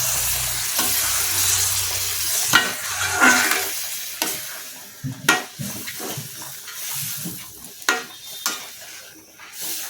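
Moong dal tipped into a hot pan and stirred, with a spoon scraping and knocking against the metal and a gentle sizzle underneath, the strokes coming in uneven bursts that fade toward the end, and no one speaking.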